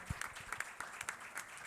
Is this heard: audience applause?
yes